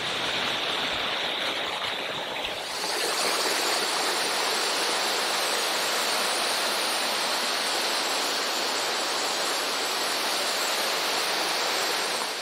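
Mountain stream running high, a loud, steady broadband rush of flowing water close by that swells slightly after a few seconds and keeps going without pause or voices.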